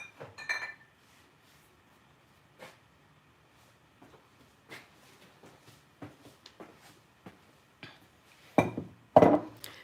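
Amber glass bottles of bourbon, readied as a Christmas gift, clink and knock together in scattered taps, growing louder and sharper toward the end, with no voices.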